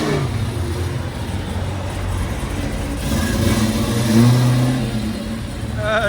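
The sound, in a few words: 1969 Yenko Camaro 427 V8 accelerating, Flowmaster exhaust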